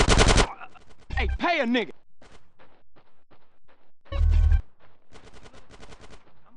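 Gunfire in a GTA San Andreas mobile mission: short loud bursts of automatic fire at the start and again midway, separated by shouted speech and a rapid run of quieter shots.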